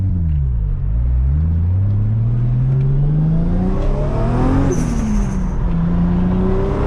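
A turbocharged Lexus IS300 revs up and pulls away, its engine note climbing through rising gear sweeps with a loud, close rumble and no talking.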